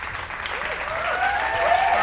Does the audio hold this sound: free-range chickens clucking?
no